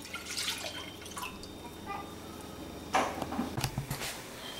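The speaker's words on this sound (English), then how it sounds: "So here I have 1 cup of fish sauce. I am going to put that in my pan." Fish sauce poured into a pan while cooking Cambodian pan-fried noodles, a faint liquid trickle and dripping that swells into a louder splashing pour near the end, heard alone without talk.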